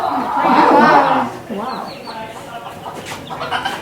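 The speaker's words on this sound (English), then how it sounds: "So this is a fully grown hen." A fully grown Legbar hen, an auto-sexing chicken breed, clucks on a farm. Her close, busy clucking and chatter comes in bursts, with a person talking over part of it.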